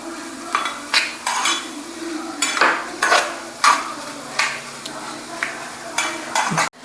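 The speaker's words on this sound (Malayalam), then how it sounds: "ഇതാ ഒരു ചെറിയ സ്പൂൺ എള്ളുണ്ട്, അത് അതിലേക്ക് ഇട്ട് കൊടുത്തിട്ടുണ്ട്. ഇപ്പോൾ ഇതിൽ ആ ചൂടിൽ തന്നെ അതിങ്ങനെ പൊട്ടും." A small spoonful of sesame seeds crackles in a hot pan while jackfruit payasam is cooked. Rhythmic bursts of stirring and scraping rise and fall over a steady sizzle, loud and close.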